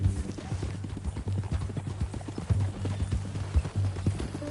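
Horse hooves clip-clop steadily at a walking pace on a trail in the western video game Red Dead Redemption 2, with regular, fairly close thuds continuing throughout and no speech.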